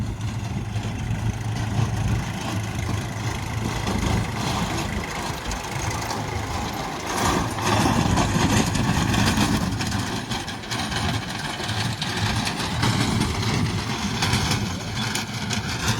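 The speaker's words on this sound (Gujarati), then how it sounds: "નવો હરાયો કઈ રીતે ટ્રેક્ટર બનાવે છે ખાસ કરીને એ જોવાનું છે" A tractor engine runs steadily while ploughing a field with a rotavator, giving a continuous low, rough drone with a rattling mechanical texture that holds close and fairly loud throughout, with no talking.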